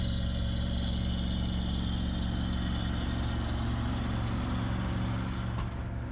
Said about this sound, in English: Even though the engine is running full blast